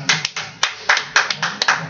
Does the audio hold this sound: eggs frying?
no